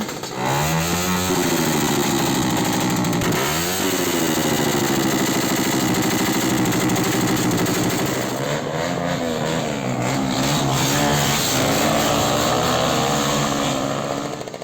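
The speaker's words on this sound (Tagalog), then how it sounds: "ang pinakamaingay ay ang mga motorsiklo na may nakakonvert na muffler. Nakakabingi sila." Motorcycles with converted loud mufflers roar steadily and close by, a continuous deafening engine drone with shifting revs, heard on an island during Christmas and New Year celebrations.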